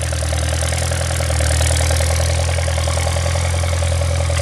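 A heavy Farmall 400 LP tractor engine idles loud and steady, its low rhythmic chugging continuous throughout with no voices.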